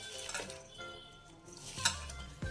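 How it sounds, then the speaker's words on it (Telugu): Spinach and onion pakoda batter being stirred in a bowl, with soft scraping and a few light clinks of a spoon against the bowl, one sharper knock near the end, close and quiet with no talking. "ఇలా ఒకసారి కలుపుకోవాలి"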